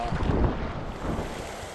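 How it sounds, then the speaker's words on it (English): A steady, broad rush of the Middle Provo River flowing, close and constant, with some buffeting wind noise over the microphone. "we're having to talk a little bit louder here because of the water and everything coming down"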